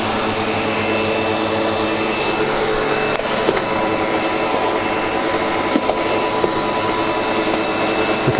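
A SEBO Automatic X7 Boost ePower upright vacuum cleaner runs close and loud with a full bag, a constant broadband roar and whine that hardly varies, with a few faint bumps and no talking.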